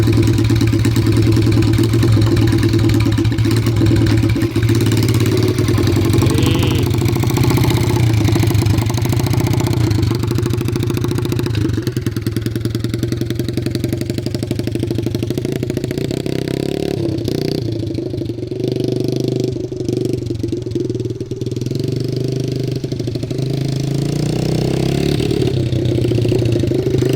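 A 1970s Scat Cat mini bike engine with a four-speed shifter runs smoky while warming up, a loud close buzzing idle that holds steady throughout with small dips and surges in pitch.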